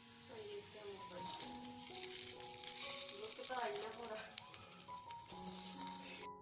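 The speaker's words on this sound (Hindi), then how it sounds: "तो इसको मैं हल्का सा फ्राई करती हूँ और हमारा तड़का रेडी है" Button chilies sizzle in a cumin tadka, the hot oil crackling and spitting steadily while a utensil occasionally stirs and rattles against the pan.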